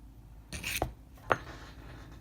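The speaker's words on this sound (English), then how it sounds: "Let's take just a regular triangle file. And I really hate to do this, but I think it's important. Take a few swipes." A triangle file rasps across a hardened US General padlock in two or three short, quick strokes, close and fairly quiet, each a brief scraping burst with a small metallic edge.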